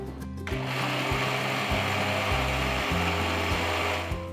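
Mixer grinder whirring as it grinds kandi podi lentil powder with salt and asafoetida: a loud, continuous motor drone with a rattling, stepping pitch, starting abruptly and running steadily throughout.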